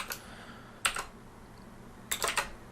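Someone types on a computer keyboard nearby in short bursts of quick clacking keystrokes separated by quiet pauses, with no voices.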